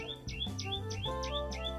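Birds chirp in village trees, a quick series of bright repeated tweets over a low steady background hum, fairly close and faint.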